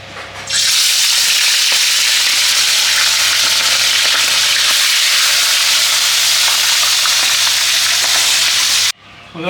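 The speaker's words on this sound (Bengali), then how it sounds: "সরষের তেল গরম হয়ে গেছে এখন মাছের মাথাগুলো ভেজে নেব আস্তে আস্তে করে" Fish heads frying in hot mustard oil in a wok, a loud, dense, continuous close sizzle that starts abruptly and cuts off near the end.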